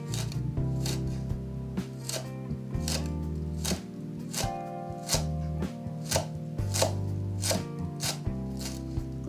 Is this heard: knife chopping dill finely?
yes